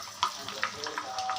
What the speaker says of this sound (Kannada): ನಾವು ಎಲ್ಲನೂ ಎಣ್ಣೆಲಿ ಕರೆದಿಟ್ಕೊಳ್ಳೋಣ